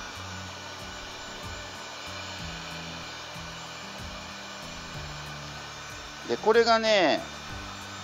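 A hair dryer heating heat-shrink tubing for a kayak fishing line setup gives a brief loud whir near the end, after a stretch of quiet background with a voice speaking.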